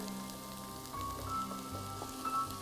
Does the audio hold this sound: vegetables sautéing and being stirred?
yes